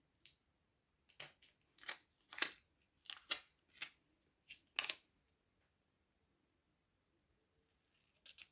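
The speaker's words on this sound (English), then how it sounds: "I'm going to cut it" Scissors snip through a piece of paper in a quick series of about ten crisp, close cuts, with a few faint rustles of handling after a short pause.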